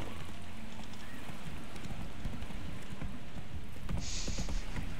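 Horse hooves clip-clopping in the video game The Witcher 3, a steady rhythmic trot of hoofbeats on the ground under a bed of ambient game noise, with no talk over it.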